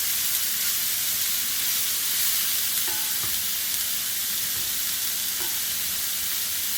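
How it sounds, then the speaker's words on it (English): Cauliflower fried rice sizzles steadily in a small, full wok as it is stirred, a continuous loud hiss with faint scraping clicks of the utensil and no talking. "Stir that around."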